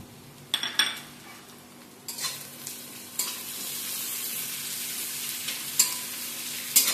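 Chopped tomato fries in a pan with other ingredients for a fish dish, a soft steady sizzle under sharp metal spatula clinks and scrapes against the pan, occurring every second or so.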